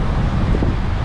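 Wind buffets a microphone on a breezy day at Haulover Beach, a steady low rumble of gusts filling the short moment from start to finish with no clear voices.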